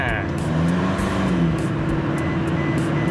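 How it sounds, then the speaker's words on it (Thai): A 2018 Toyota Revo single-cab 2.4 J manual pickup with its muffler removed drones loudly and steadily at speed in sixth gear, a continuous engine and exhaust roar with no voices over it. "คือเสียงท่อนี่ไม่ได้แต่งท่อนะมันเขาตัดท่อพัก ออกนะครับ เสียงท่อเลยดังนิดนึงนะครับ"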